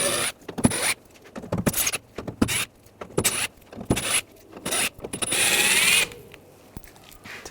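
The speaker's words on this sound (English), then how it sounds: "Take these screws out." Screws being backed out of a 2014-2018 GMC Sierra 1500 tailgate panel with a T15 socket on a ratchet, in a series of quick clicking ratchet bursts separated by short pauses, close and fairly loud, ending in a longer whirring run.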